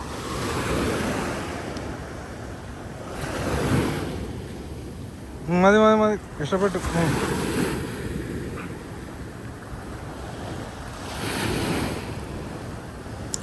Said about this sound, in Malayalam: ഈ കടലിൻ്റെ സൗണ്ടും തിരമാലയും